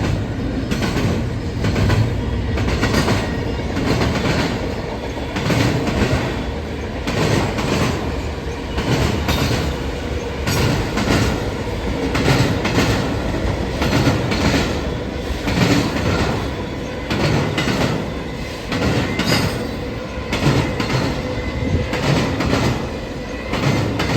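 A BNSF freight train hauls ocean shipping containers from the Oakland yard, its wagons rumbling past steadily and loudly with continuous clickety-clack of wheels and no talk.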